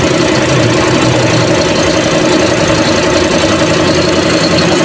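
Toyota Vios dual VVT-i engine idles steadily and close by, a constant rough mechanical hum with slight knocking texture and no voices.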